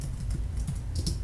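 Quick keystrokes on a computer keyboard while composing an e-letter for a farm's records: a short, close burst of several clicky taps with no voices.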